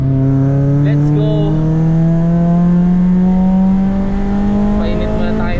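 A small 1NZ-engined budget race car revving hard in a wet cup race session to warm its tires, a loud continuous engine note rising steadily in pitch, close to the car, with voices faintly in the background.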